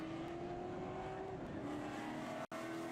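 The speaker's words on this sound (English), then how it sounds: "As we see the 94 car pulling away." Race car at New Smyrna Speedway, an asphalt oval, with a steady engine drone and a rising tone as it pulls away under a night racing crowd atmosphere, loud and continuous with a brief dropout.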